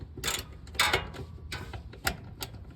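A ratchet wrench tightens a 10mm bolt on a gearshift cable bracket of a 2002 Infiniti QX4, giving several quick clicking bursts with brief pauses between them, close by and quiet.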